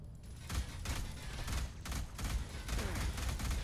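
Repeated bursts of weapon fire from a first-person shooter, Alien Rage, sounding as irregular loud shots and short volleys over a steady game backdrop.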